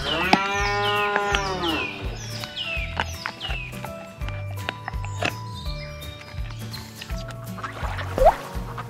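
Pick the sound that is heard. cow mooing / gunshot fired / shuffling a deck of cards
cow mooing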